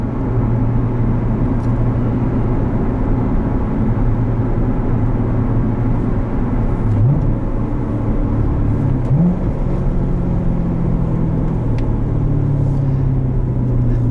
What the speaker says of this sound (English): That was probably the last full throttle acceleration